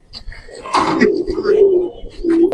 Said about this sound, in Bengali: এটা হলো কিং কবুতর ভাই